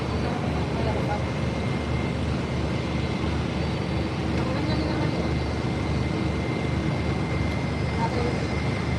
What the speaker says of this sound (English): Next up will be Primair 4399 heading to Miami on a 76300 freighter.